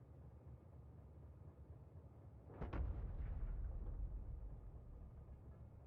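Artillery shells fired in the Factorio video game, a single distant boom with a short sharp crack followed by a low rumbling tail, heard alone over a steady background hum.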